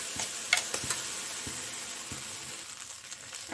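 Ground ginger hits a hot pan on a gas stove and sizzles softly, punctuated by a few clicks and scrapes of stirring at moderate volume, with no voices.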